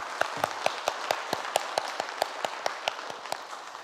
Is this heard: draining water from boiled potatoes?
no